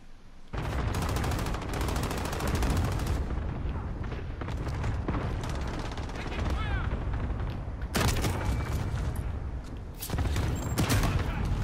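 Rapid bursts of gunfire from a Call of Duty Modern Warfare team deathmatch match, with dense overlapping shots and booms packed through most of the stretch, loud and close, with a louder cluster of blasts near the end.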